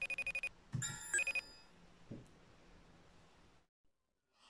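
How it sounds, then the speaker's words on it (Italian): A phone rings for an incoming video call, with several quick electronic ringtone bursts close by and a short rustle before it falls silent. "sta squillando Malima e Mina, meglio rispondere"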